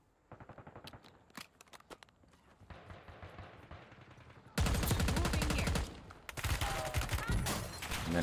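Bursts of automatic gunfire in Warzone: scattered single shots and short volleys, then a loud, dense barrage of rapid fire close by that cuts off abruptly, followed by more shots at a lower level.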